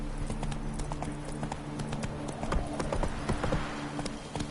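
Roach, the horse in The Witcher 3, gallops with a steady, close clip-clop of hooves and a continuous hoof rhythm throughout, with game ambience and a low drone beneath.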